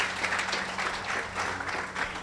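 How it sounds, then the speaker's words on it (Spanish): Applause from a church congregation at an evening worship service, a steady wash of clapping with no speech. "Den un aplauso en esta noche"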